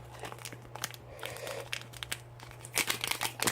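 Plastic packaging for a small shrimp-raising kit torn and crinkled open by hand, irregular crackling bursts that build to louder rips near the end, close and without talk.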